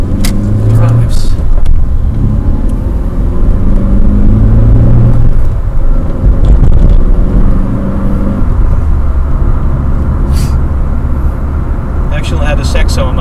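A car more than 22 years old drives along the road with a steady, loud engine and road rumble. Tyre noise runs throughout, with a few brief higher whooshes from passing traffic.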